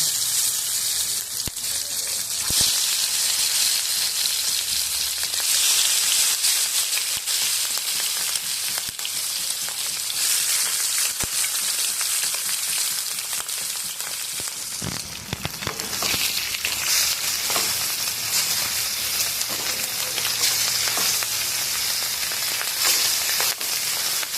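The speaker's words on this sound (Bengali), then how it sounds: "তেলটা গরম হয়ে গেছে, মাছগুলো আমি ভেজে নেব।" Hilsa fish pieces rubbed with salt and turmeric frying in hot mustard oil give a steady, loud, close crackling sizzle for the whole stretch, with occasional splashy bursts and no talking.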